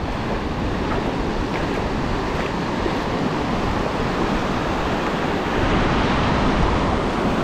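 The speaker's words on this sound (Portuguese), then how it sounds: "do jeito que tá o mar, agitado, não vai pegar nada" Rough, agitated sea surf breaking on a beach during shore fishing, a steady loud roar of churning waves with wind buffeting the microphone, continuous and close with no talk.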